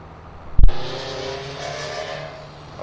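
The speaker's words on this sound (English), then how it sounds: "Tin can muffler." Car engine fitted with a tin can muffler in Farming Simulator 22, a sharp thump followed by a steady, buzzing drone of moderate loudness, without speech.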